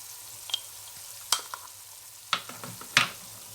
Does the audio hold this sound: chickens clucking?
no